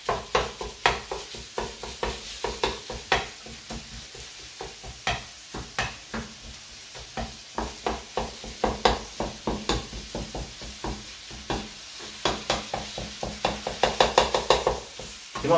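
Meat frying in oil in a pan for a Turkish broad bean dish, with steady close sizzling broken by rhythmic scraping and stirring strokes of a utensil against the pan.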